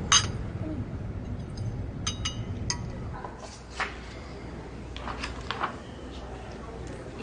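Glasses clink together in a toast, a few short bright chimes scattered through background chatter and room noise, with voices talking around them.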